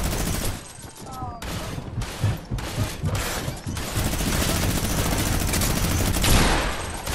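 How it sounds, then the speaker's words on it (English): Fortnite Wild West match gunfire, rapid bursts of shots and sustained automatic fire crackling in dense volleys, loud and continuous, with a voice talking faintly underneath. "They're shooting."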